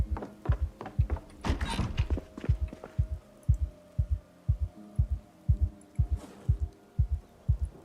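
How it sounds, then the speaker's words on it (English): A steady heartbeat plays in the video game Project Zomboid, with a regular low double-thump pulse that runs throughout, close and clear, and a brief burst of other game noise near the start. "I've heard the heartbeat the entire time."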